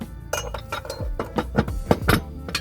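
A Yamaha AR230/SX230 jet boat's metal jet pump nozzle is handled and fitted onto the pump, giving a series of close, sharp metallic clinks and knocks at irregular intervals.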